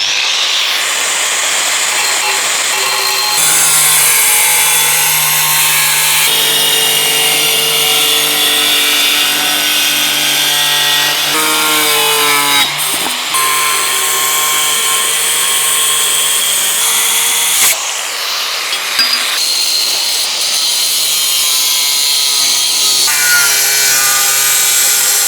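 Makita grinder with a 125 size blade cutting tile, a loud continuous high-pitched whine with grinding, shifting in pitch as the blade bites and briefly drops out at a couple of moments, close.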